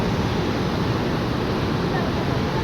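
The fast-flowing Saraswati river in the mountains of Uttarakhand rushes nearby, a loud, dense, continuous roar of churning water with steady broadband wash and no breaks.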